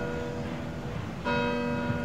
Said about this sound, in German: Mit dem Glockenläuten der Kirche stehen wir hier in Finnentrop